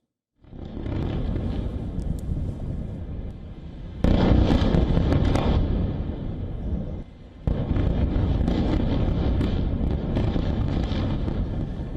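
Airstrikes pound southern Beirut in a sustained, heavy rumbling bombardment of distant explosions that rolls on continuously, jumping louder at one point and briefly dipping before surging again.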